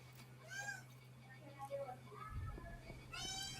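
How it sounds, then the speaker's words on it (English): Short, high meows of a cat ring out a couple of times during a playoff game broadcast, mixed in with people talking. "Sounds been heard. Meow meow."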